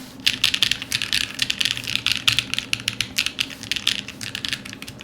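Keys clack on a lightweight Neson Z1 mechanical keyboard with a stainless steel weight, a fast, uneven run of crisp, close keystrokes that carries on with no pauses or talk.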